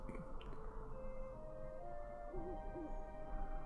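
An owl hoots in Syberia 2, a few short wavering tonal calls mid-clip over a steady low ambient game backdrop, no voices.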